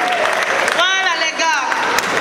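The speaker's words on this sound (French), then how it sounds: "Applaudissez pour les bandits." Audience applause at a comedic show, a dense, steady wash of clapping that runs the whole time with voices and a brief whistle-like tone mixed in.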